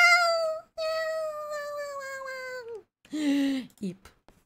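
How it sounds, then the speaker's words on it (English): A cat meows in Stardew Valley, with a long drawn-out meow followed by a shorter pair of mewing calls, close and clear. "Meow,"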